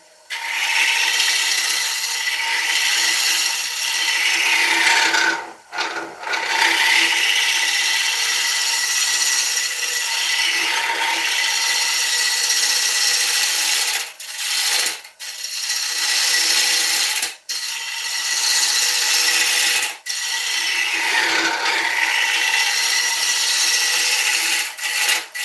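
A green oak chunk spins on a wood lathe at 600 RPM as a tool cuts it, making a rough, continuous scraping and rubbing sound, close and loud, broken by a few short pauses.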